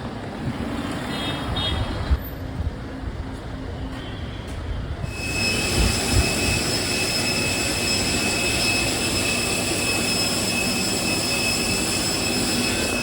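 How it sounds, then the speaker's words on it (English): Jet airliner engines at an airport in Bengaluru, India, a loud steady roar with a high whine that swells and stays dense throughout, no talking. "We don't always get to see jets up close."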